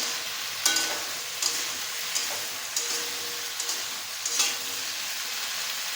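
Food cooking in a pan, uncovered, is stirred a few times: soft scraping strokes at irregular intervals over a quiet, steady sizzle, with no voices.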